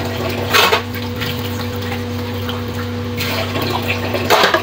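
Water gurgles and trickles slowly down a clogged kitchen sink drain, a steady close wash of liquid noise with a low hum underneath and a few louder gushes.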